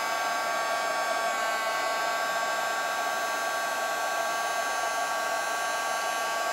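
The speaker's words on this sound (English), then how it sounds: "the heat tool that I have is the Marvy heat tool" A Marvy heat tool blows continuously to dry embossing powder, a steady, even whirring hiss of air held at moderate level with no pauses or voices.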